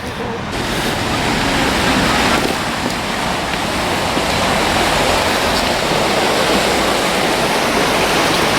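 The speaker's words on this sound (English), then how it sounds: "That's some rapids." Floodwater rapids rush under a flooded bridge on a Canterbury walk, making a loud, continuous broadband roar close by with no pauses and no talk.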